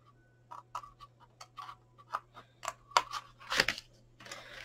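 Scissors snipping paper or cardstock while making a pencil box, a dozen or so short crisp cuts at irregular spacing, close up, with a quiet steady hum behind and no talking.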